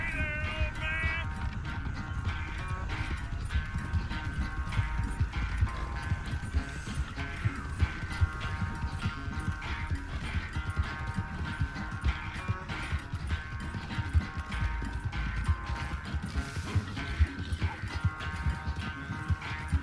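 Horse hooves gallop in a steady, rapid clip-clop rhythm in the video game Red Dead Redemption 2, loud and continuous over a layer of game music, with the horse named Mahogany pushed hard.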